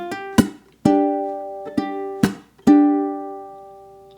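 Ukulele chords from a song are strummed in short, separate stabs, five or six sharp hits each ringing out briefly before the next, played alone and close.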